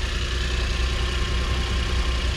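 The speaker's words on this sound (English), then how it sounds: "Engine is running good" An all-wheel drive Smiley vehicle with over 138,000 mileage idles close by, a steady, even engine rumble with no variation in pace and no voices over it.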